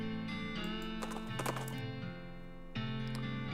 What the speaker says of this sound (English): The horse reluctantly agrees and trots off, leaving the binoculars behind.